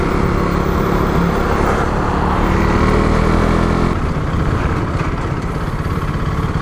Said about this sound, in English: If you leave your throttle in this constant position and pull the clutch into downshift, the engine's going to rev like this.